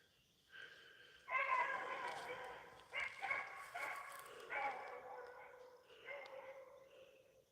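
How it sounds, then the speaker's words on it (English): Hounds on a rabbit trail bark and bay in repeated bursts from some distance, several voices overlapping in an uneven rhythm outdoors. "Pretty sure it's Memphis barking there"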